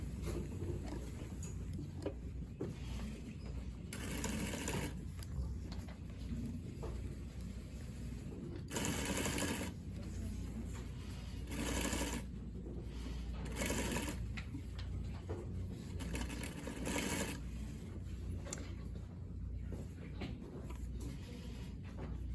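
A sewing machine stitches a gathering row on a sleeve for a bias-and-cuff gathered sleeve, running steadily and close with several louder bursts of faster stitching and no talking.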